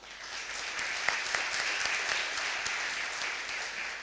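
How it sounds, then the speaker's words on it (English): The audience at a CANTO Connect 2025 and AGM opening ceremony claps steadily through a sponsor acknowledgement, with dense applause and a few sharper individual claps standing out near the front. "Lots of clapping to be had this afternoon."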